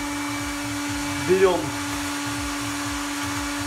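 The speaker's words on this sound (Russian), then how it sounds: "Включаем фен" A heat gun runs with a steady, even hum while protective film is applied to a new Skoda, with a brief spoken word rising over it midway.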